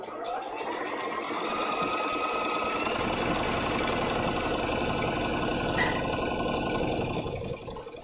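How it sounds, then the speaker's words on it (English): A sewing machine runs steadily through a seam on a quilt-as-you-go placemat, a loud continuous mechanical whir with rapid needle chatter that starts after a brief pause and runs almost to the end. "I'm just going to stitch over, turn everything around, and stitch the other direction."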